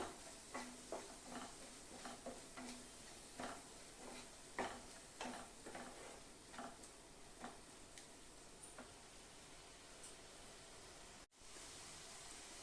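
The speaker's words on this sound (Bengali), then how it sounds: "এখন আমি মশলাটা খুব ভালো করে ভেজে নিব, যখন তোমার তেল না বেরোবে ততক্ষণ পর্যন্ত আমি ভেজে নিব" Spice masala frying in oil in a pan for a Bengali katla fish kalia: a steady soft sizzle runs throughout, punctuated by repeated light scraping and tapping of a stirring utensil, fairly quiet and without talk.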